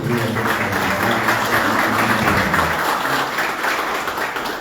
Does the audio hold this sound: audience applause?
yes